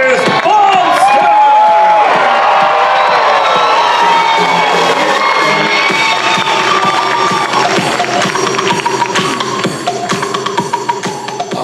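A large crowd at the Olympia bodybuilding press conference cheers and whoops loudly for Chris Bumstead, a dense roar with shouts and applause that tapers off slightly toward the end.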